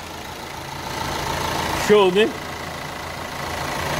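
Rebuilt Volkswagen Amarok engine idling a thousand-odd kilometres after assembly, a steady mid-pitched hum under someone talking close by, with a short rising-and-falling rev-like swell in the middle.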